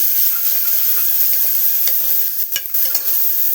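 Ginger-coriander paste and garlic are stirred into a sizzling potato curry in a pan, a steady close hiss of frying broken by soft scraping strokes, with no talking.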